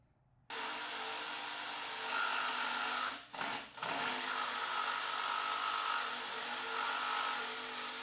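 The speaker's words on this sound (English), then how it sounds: "I used a Forstner bit to drill holes for where the screws would sit" A drill bores screw holes in wood with a Forstner bit while building a table from mid-century doors, a steady whirring hum that pauses briefly and then resumes.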